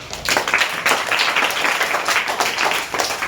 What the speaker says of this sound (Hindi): बहुत बढ़िया, तालियां।